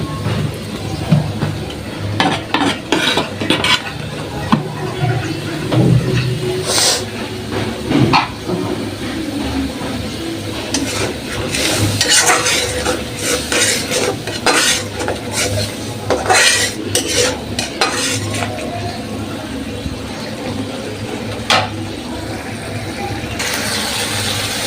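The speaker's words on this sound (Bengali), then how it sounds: "মশলা দিয়ে একটু কষাই নিতেছি। কষাই নিয়ে তারপরে এই ভাতটা আমি ছাড়া দিয়ে নিতেছি।" Rice is stir-fried with spices in a pan, heard as repeated metal clatter and scraping of a spatula against the pan over a constant background hum, with brief bursts of louder clanking.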